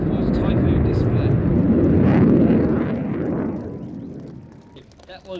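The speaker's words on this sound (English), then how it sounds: "that was the 2021 Royal Air Force Typhoon display" A Royal Air Force Typhoon jet flies a display at the Midlands Air Festival, a loud, broad roar passing overhead that swells, then fades as it moves away.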